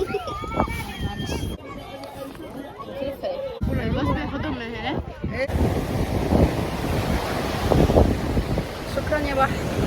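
Sea waves and gusting wind at the shore, a steady rushing surf under heavy wind buffeting on the microphone, with people talking and chattering over it.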